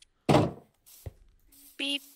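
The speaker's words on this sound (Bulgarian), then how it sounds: "С 2 врати отворени мога минаш." A wooden door in the Minecraft video game opens with a hollow thunk, followed by a second softer knock a moment later. Both sounds are close and brief, with a short electronic tone near the end.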